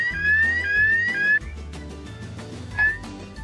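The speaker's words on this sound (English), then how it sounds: "Do you want to hear the sound of a ringing fire alarm?" A fire alarm rings loudly with rising, wailing electronic tones that repeat in sweeps, over a busy, cluttered background.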